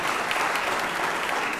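A short burst of steady applause from the audience at a state legislative session, fairly full but not loud.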